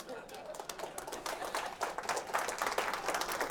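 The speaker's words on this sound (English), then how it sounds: "You're clapping for her courage." An audience at a trauma-healing conference gathering applauds with a dense, sustained wash of clapping that swells slightly and holds steady, with voices mixed in.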